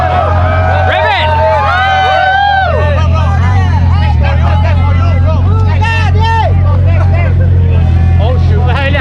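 A Bugatti Chiron's engine revs and idles with a low, steady rumble during the Gumball 3000 rally in Malaysia, as a dense crowd chatters and shouts close around the car throughout.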